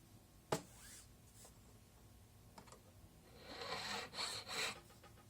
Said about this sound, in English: So after this, you want to take a nice flat file.